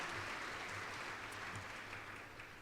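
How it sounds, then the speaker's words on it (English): Faint, distant applause from an audience at an Urban League award ceremony in New York City, a steady wash of clapping over a low hum. "Let's give him a round of applause, because he is the real award winner"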